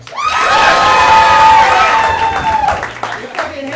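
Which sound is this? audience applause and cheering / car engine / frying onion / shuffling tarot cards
audience applause and cheering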